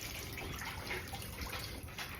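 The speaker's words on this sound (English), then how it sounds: "I'm just gonna go ahead and pour this off." Cold thawed water is poured off a bag of defrosted shrimp into a kitchen sink, giving a short, soft, continuous splashing trickle.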